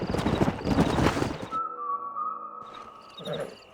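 A stallion in the Red Dead Redemption video game gives a loud, drawn-out whinny after a burst of clopping hooves, then the hoofbeats pick up again near the end.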